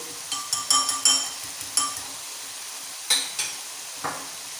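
Whisked eggs stirred into a frying masala in a pan: scattered spoon scrapes and clinks against the metal over a faint sizzle, close up, with a few louder knocks and no talking.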